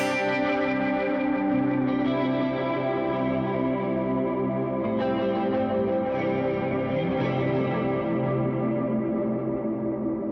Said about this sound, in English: Even throwing some chorus on.